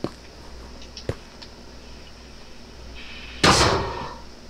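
A door in a video game clicks and creaks faintly, then slams shut with one loud, heavy thud that rumbles briefly, with no talk over it.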